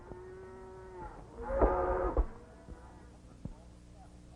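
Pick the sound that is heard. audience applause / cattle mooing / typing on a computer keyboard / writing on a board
cattle mooing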